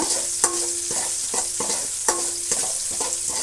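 Curry leaves frying in hot oil in a pan, a steady loud sizzle with sharp crackles and spatula stirs recurring every half second or so, no voices.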